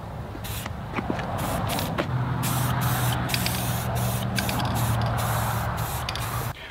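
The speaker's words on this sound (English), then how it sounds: "apply a couple of coats of satin black spray paint" Satin black spray paint hisses steadily from an aerosol can onto steel, a close, continuous spray with brief pauses and faint clicks, no voices present.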